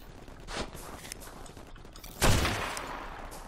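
Gunfire in the video game Ark Survival Evolved: a couple of sharp shots, one faint early and a louder blast near the middle, over a busy game background with no voices.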